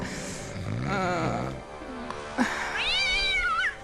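A cat in the Hidden Mysteries Titanic video game yowls as it is thrown, with a long, wavering, rising caterwaul followed by a second shrill, quivering meow, loud and close.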